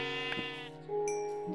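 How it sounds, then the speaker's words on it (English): Sheep bleating in the Minecraft video game, two short synthetic bleats in quick succession, clear and close with no talking over them. "I got a sheep over here."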